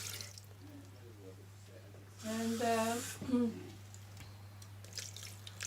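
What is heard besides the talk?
cold water filling a kettle under the kitchen tap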